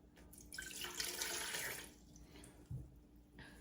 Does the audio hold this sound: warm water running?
yes